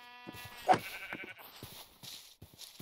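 A sheep in the video game Minecraft gives one short wavering bleat near the start, followed by soft scattered clicks and taps, with no other sounds around it.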